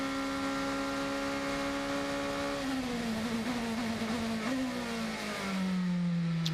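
A United Autosports LMP race car, number 22, at the 2020 Lone Star Le Mans endurance race, droning loudly with a steady engine note that holds, dips as it shifts down, then settles lower with close, continuous roar throughout.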